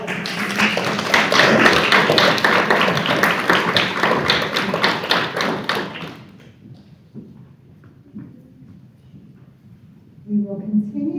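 Audience applauding at a school board of education meeting, a dense round of clapping for about six seconds that stops abruptly, followed by quiet room noise and faint voices.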